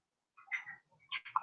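A pet bird lets out a few short, faint chirps and squawks with pauses between them, ending in a louder burst of chatter, with no human voices.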